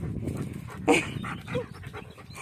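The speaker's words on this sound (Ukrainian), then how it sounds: "Ось вона ця собака, квіточка." A dog pants and gives a short whimpering bark up close, quick breathy huffs with one sharper yelp near the middle, set against faint outdoor background noise.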